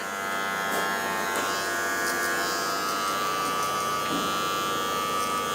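Electric hair clippers buzz steadily through a barbershop taper cut, a close, continuous motor drone with slight shifts in tone as the blades move through hair, no talking.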